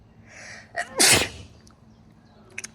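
A single sharp sneeze bursts out close to the microphone, preceded by a brief inhale, then quiet room tone.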